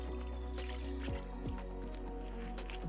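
A mare named Carmen drinks from a creek, making faint, steady wet slurping and sloshing sounds with soft drips over a low outdoor rumble.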